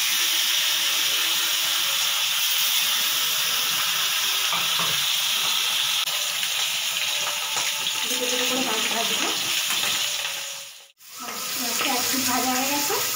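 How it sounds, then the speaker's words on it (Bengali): Hilsha or rui fish sizzling in hot oil in a home kitchen, a steady broadband crackle and hiss throughout, with faint utensil clatter and a brief drop near the end. "তেলটা গরম হয়ে গেছে, আমার মাছটা দিয়ে দেবো।"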